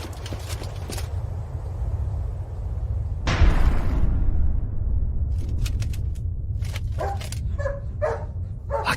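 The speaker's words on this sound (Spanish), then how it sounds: "¡Callen a ese perro!" A dog barks in a quick series of sharp yelps near the end, over a constant low outdoor rumble at a mountain encampment, with a short burst of broadband noise partway through and no speech.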